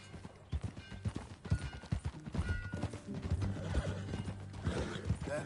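Horse hooves clip-clopping at a steady riding pace in a video game, a brisk rhythmic patter of hoofbeats with creaking tack and a brief neigh, fairly close, with no talk.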